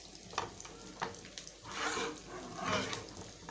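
Potatoes frying in oil in a home kitchen make a steady, moderate sizzle, swelling in two broad crackling bursts amid a few soft stirring clicks, with no voices.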